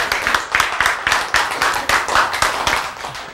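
A lecture audience claps in steady, fairly even bursts for a few seconds, close and loud.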